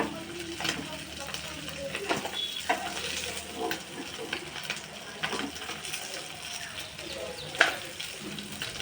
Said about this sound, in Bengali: মাছগুলো ভালো করে কড়া করে ভেজে নেব।